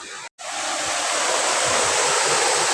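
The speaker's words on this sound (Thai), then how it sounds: "วันนี้น้ำมาหนักเลยนะครับ" Rushing floodwater pours heavily through a canal near Uthai, Ayutthaya, making a loud, steady roar of broadband noise that begins just after a brief cut and then continues unbroken.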